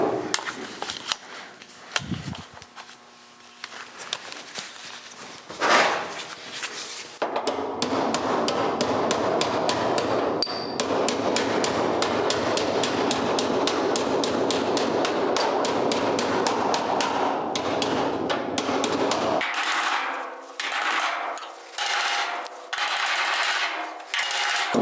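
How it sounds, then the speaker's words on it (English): A hammer strikes against a dolly while rolling a flange on a 1956 Chrysler car body, rapid, even metallic blows in a long sustained burst, preceded by a few scattered taps and followed by slower intermittent hits. "now we need to take and roll this flange down so that it's level again and mates up with the dash panel"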